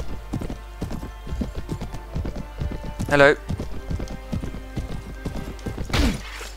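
Horse hooves clip-clop in the video game Mount & Blade: Warband, a quick steady rhythm of hoofbeats close by with a couple of brief louder whooshing clashes, while someone speaks briefly.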